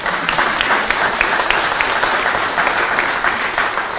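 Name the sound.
applause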